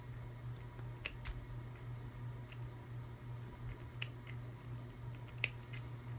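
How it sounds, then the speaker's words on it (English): Scissors making a handful of quiet, separate snips into fabric near the seam of a sewn sunglasses zipper pouch, spaced irregularly over a steady low hum. "And then make a snip right in the center, making sure not to cut the seam."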